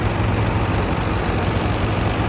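A farm tractor idles close by with a steady, low, rumbling hum that holds even and unbroken the whole time.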